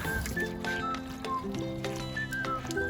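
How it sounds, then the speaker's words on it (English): Water pours and splashes steadily over a car headlight during restoration with a kit, a continuous close wet rush with small gurgling shifts throughout. "Just have to rinse it off."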